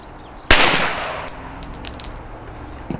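A single muffled handgun shot fired with the muzzle pressed into a pillow, one abrupt dull bang followed by a brief fading tail and a few faint clinks, no talking.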